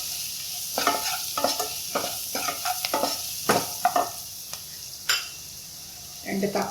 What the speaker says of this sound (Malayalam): മഞ്ഞൾപ്പൊടി ഇട്ടൊന്ന് ഇളക്കിയിട്ട്